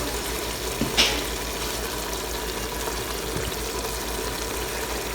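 Curry seasoning sizzling in a pot of hot olive oil with garlic and onion, a soft steady frying hiss with a brief clink near the start and no voices.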